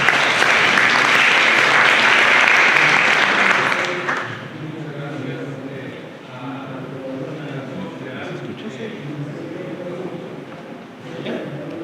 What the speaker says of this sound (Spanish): Te pido un fuerte aplauso para Javier.